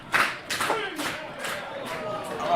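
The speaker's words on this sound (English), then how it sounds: "And here comes the rally clap here with 2 outs" Fans at a Hamilton Cardinals versus Guelph Royals baseball game break into a rally clap with two outs, several loud rhythmic crowd claps spaced roughly half a second apart, ringing out across the ballpark.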